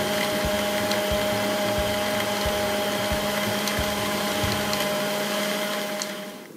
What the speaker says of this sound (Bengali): এখন এই সব কিছুকে আমি একটু ব্লেন্ড করে নেব